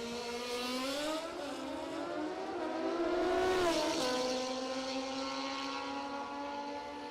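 Two Super Comp drag racing motorcycles scream down the strip side by side at the ManCup World Finals, a loud sustained high-revving engine whine that rises and bends in pitch as they pass, then holds at a steady distant drone.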